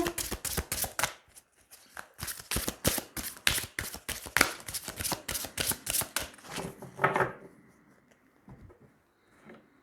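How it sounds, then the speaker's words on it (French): Tarot cards shuffled and drawn by hand: a rapid series of crisp riffling flutters and papery slaps for several seconds, then a few softer card placements and a quiet pause near the end, close up with no talking. "on va tirer 3 cartes"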